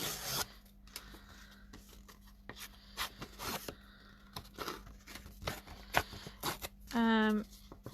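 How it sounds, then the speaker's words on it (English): The edges of a paper card blank are roughed up for mixed media cardmaking, heard as close, intermittent scraping and rubbing strokes in short bursts, ending with a brief ripping or zipping run. "So, right now I'm going to just rough those edges up a bit."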